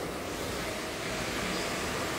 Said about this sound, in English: So this is how the water comes out.